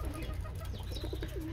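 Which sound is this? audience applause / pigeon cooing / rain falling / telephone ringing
pigeon cooing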